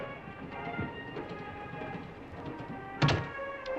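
A passenger train rumbles along, heard from inside a 1948-era sleeping car, with a steady rattling rolling noise and a sudden clunk near the end.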